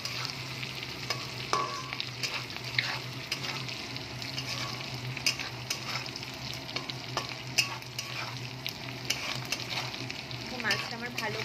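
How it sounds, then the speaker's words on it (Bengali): Dried fish (shutki) frying in a pan of oil, a continuous close sizzle with scattered spatters and stirring scrapes, a low hum running underneath. "ভালো করে ভেজে নেব এই মাছটাকে।"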